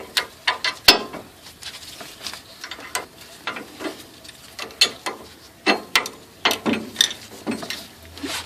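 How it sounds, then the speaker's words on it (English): A 19mm wrench ratcheting a bolt on a 2004 Nissan Armada strut, giving a steady series of close, sharp metallic clicks in an uneven rhythm with brief clanks between, no talking. "And now I have to use a wrench for this."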